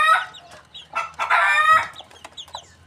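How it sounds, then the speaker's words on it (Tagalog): Native chicken clucking up close, several short squawking clucks and bursts in quick succession, loud and clear against a quiet background with no talk. "yung kinuha kong manok"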